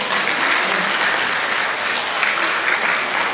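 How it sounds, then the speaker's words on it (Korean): Audience applause at the opening ceremony of the Gyeongju International Minhwa (folk painting) Forum: steady, full clapping from a large crowd, loud and unbroken throughout. "큰 박수로 그래도 응원해 주시기 바랍니다"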